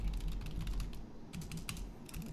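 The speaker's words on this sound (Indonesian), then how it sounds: "jadi ini bukan mechanical keyboard. Jadi kurang lebih suara yang kalian dengerin adalah kayak gitu." Soft, dull keystrokes from a wireless Logitech non-mechanical keyboard tap out in a quick irregular stream, recorded close on a Thronmax MDrill One Pro USB mic set to cardioid, with nobody speaking.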